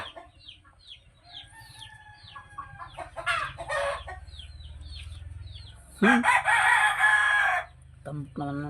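Hens cluck and murmur in short bursts, with a loud rooster crow breaking in midway; a few farmyard noises sit underneath.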